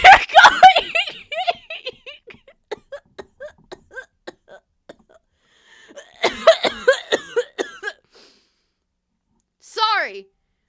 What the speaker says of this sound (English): Ooh, I had a cough attack for a second.